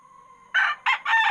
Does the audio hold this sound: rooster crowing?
yes